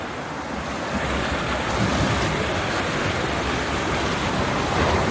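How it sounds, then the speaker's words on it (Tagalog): Rough sea waves near a resort in Batangas surge and crash in a dense, continuous roar, with strong wind buffeting the microphone throughout. "Maalon. Ang lakas ng tubig. Nagagalit siya."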